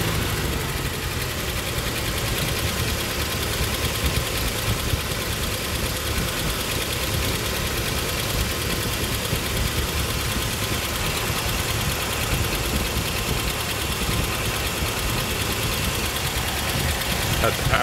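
An old vehicle's engine idles steadily after a tune-up and carburetor adjustment, a continuous low rumble with some knocking texture running unbroken at moderate loudness.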